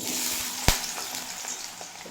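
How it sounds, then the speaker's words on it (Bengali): Potatoes fry in hot mustard oil with a continuous crackling sizzle, one sharp clack of a utensil near the start, then steady bubbling and light stirring. "তেল ভালো মতো গরম হয়ে গেছে এই তেলেই ভেজে নেব আলু"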